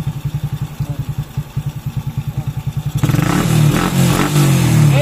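Honda Wave 100 motorcycle engine with a battery-operated CDI, running close up at a steady pulsing idle, then picking up into a louder, fuller rev after about three seconds; no talking.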